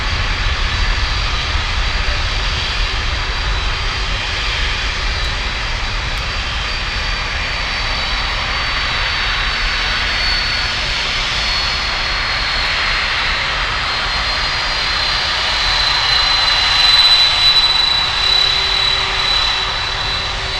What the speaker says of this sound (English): That 737 was waiting for such a long time, nearly half an hour to depart from Niner.